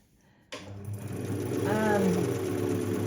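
A small vintage sewing machine runs and stitches, its throaty motor purr starting abruptly and then whirring steadily at close range, with a brief voice sound partway through.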